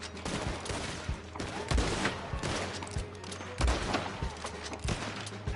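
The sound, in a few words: gunshots in the video game Red Dead Online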